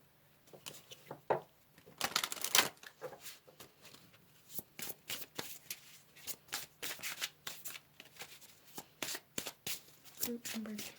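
A deck of tarot cards being shuffled and drawn, heard as close, crisp bursts of riffling and snapping in an uneven rhythm, with a louder flurry early on and quiet breathing or soft vocal sounds between.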